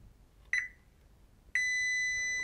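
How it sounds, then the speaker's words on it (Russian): A multimeter gives continuity-test beeps on a pin of a bus circuit board: two clear electronic tones, the first short and the second held steadily, over a quiet background. "И прозвоним вот с этой ножкой"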